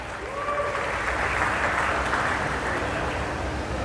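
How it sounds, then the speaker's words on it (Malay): An audience at an evening political gathering for the Chini state by-election breaks into sustained applause, a dense, even wash of many hands clapping throughout, with a brief voice faintly audible at the start. "Berikan tepukan."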